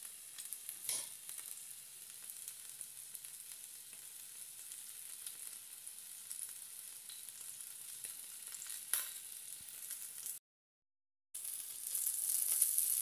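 Beef fillet sizzles steadily on a hot griddle, a faint, continuous hiss with occasional spits and pops, heard alone before a brief dropout and a louder stretch of frying.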